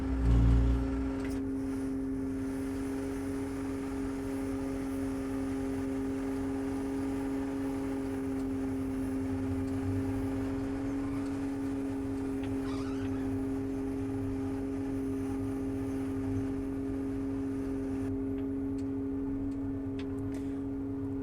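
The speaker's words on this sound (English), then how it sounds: "now we need to move forward at a speed of 1 to 5 miles per hour, and the axles will start to adjust on their own" A vehicle with automatically adjusting axles creeps forward at 1 to 5 miles per hour while its wheels spread out to 160-inch spacing, giving a steady, even engine drone with a constant tonal whine and no talk.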